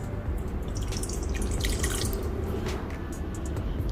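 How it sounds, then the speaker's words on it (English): Half a cup of warm water pours into a container for pizza dough, a close, continuous trickling and splashing stream with no voices. "Take half cup warm water."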